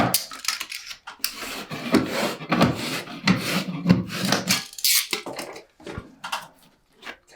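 A blade trims the bottom edge of grasscloth wallpaper, making dry, rasping scrapes and cutting strokes. The strokes come in irregular bursts over several seconds, close and moderately loud, with short pauses between them.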